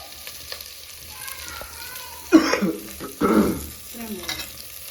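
Curry leaves drop into a sizzling Kerala-style mackerel curry, giving two sharp bursts of crackling frying about a second apart over a quiet background hiss.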